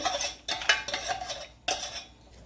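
A spoon scrapes and clatters against a kadhai while sugar, khoa and besan are stirred together, with loud repeated metallic strokes in uneven bursts and no talking.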